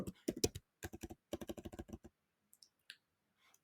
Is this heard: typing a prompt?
yes